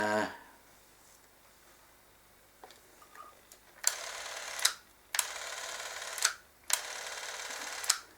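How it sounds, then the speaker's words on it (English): A Sankyo EM 40 cine camera motor whirs in three close, bright bursts of about a second each, separated by short pauses, after a few quiet clicks. "so that's the motor running"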